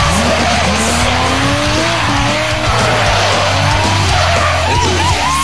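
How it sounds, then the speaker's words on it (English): Import race cars drift at a New Zealand drifting shootout, with loud, sustained tire squeals over roaring engines, continuous and close throughout. "Sean, Fangadan, JT and Adam were working their cars hard."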